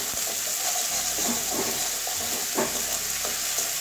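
Ginger and garlic fry in hot oil with a steady close sizzle, with occasional stirring scrapes in the pan.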